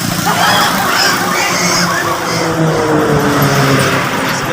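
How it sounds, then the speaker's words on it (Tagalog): Vehicles passing on a highway near Mabinay, a loud continuous rush of traffic noise with engine drone swelling and fading as cars go by close. "Daghang mga sakyanan nagsipangagi."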